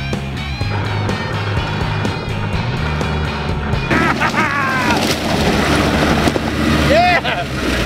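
A cheap 4x4 strains up a steep hill with its transmission slipping badly, the engine revving and droning under gusty wind noise while people talk over it.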